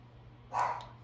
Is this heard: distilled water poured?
no